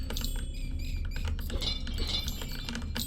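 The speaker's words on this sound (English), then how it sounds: "I also don't know how loud my keyboard is" A computer keyboard clatters with quick, continuous light clicks and taps, fairly close, over a low background hum from a game, with no talking.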